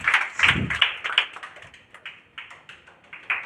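A small group claps at a district board-topper honour ceremony in Bihar, scattered close handclaps in uneven bursts that thin out into a few separate claps.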